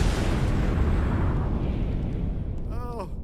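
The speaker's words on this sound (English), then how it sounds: "is it just me, or does that seem like a lot of explosions?" Explosions rumble in a Call of Duty video game match at a CWL Anaheim 2018 esports event, a dense continuous roar of blasts that slowly fades, ending with a brief tonal chirp.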